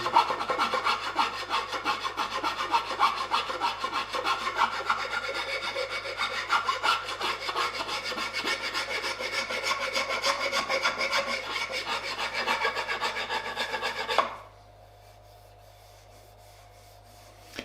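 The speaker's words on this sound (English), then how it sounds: "with a half round file and just work out all the leftover burrs and edges and just round it off very nicely" A half round file scrapes steadily back and forth across a wooden practice sword, a dense rasping rub for about fourteen seconds before stopping abruptly, leaving a faint low hum.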